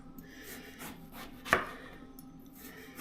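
A knife slicing eggplant thin by hand, heard as quiet, soft cuts with one sharper, louder stroke near the middle, close and faint, with no speech.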